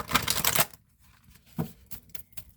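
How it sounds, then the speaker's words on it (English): A quick burst of tarot card shuffling, a dense riffling flutter, followed by a few softer taps and slides of the cards being handled. "okay, one more shuffle."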